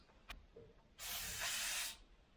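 A tightened water fitting leaks with a steady hiss lasting about a second, close and fairly loud, followed by quiet with a faint click before it starts.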